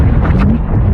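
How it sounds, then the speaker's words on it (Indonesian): A ship blowing up in the film The Meg: a loud, dense, low rumbling roar fills the whole second with no pause, heavy and sustained rather than a sharp single crack. "Kapal tersebut meledak."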